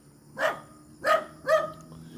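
A dog barks three times at close range, short sharp woofs spaced about half a second apart over a quiet background.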